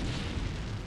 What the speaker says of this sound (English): Ah, oh, crap, they have a siege tank.